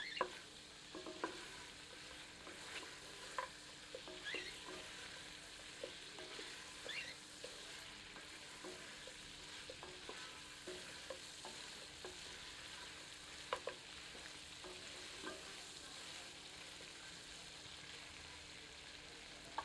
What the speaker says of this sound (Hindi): अब आंच तेज करके 1 मिनट भूनते हैं।